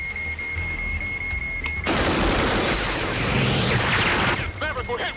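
Rapid gunfire raking a fighter jet during an air combat dogfight, a dense loud rattling barrage over steady jet engine roar, with voices speaking over it.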